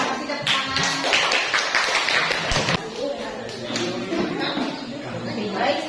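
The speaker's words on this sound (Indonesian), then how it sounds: "Terima kasih, tepuk tangan." Applause from students in an Indonesian classroom during a poetry lesson: a dense burst of clapping over the first few seconds, then fading into the murmur of voices and room noise.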